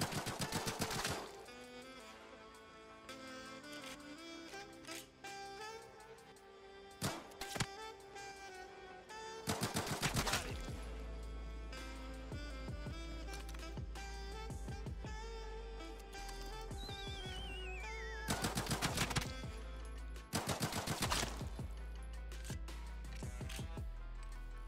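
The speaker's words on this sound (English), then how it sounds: "Sultan rocks a CZ-75FA full auto pistol that does 19 damage to the upper torso" Full-auto CZ-75FA pistol fire in the shooter game Caliber, sounding as several short loud bursts of rapid shots over a steady game music and ambience bed.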